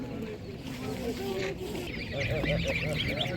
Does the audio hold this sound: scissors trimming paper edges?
no